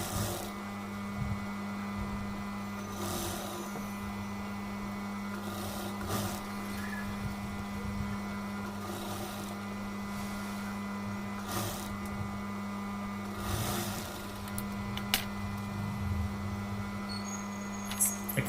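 A sewing machine stitches piping onto a gown with a steady mechanical hum and intermittent bursts of rattling stitching, running continuously at close range with no talk.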